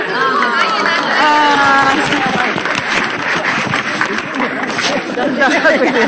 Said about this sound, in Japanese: だんだん拍手してる人増えてる